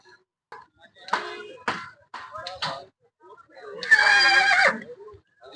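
A horse whinnies loudly and shakily near the end at a Diwali horse fair in Amritsar, preceded by a few short bursts of nearby voices or snorts.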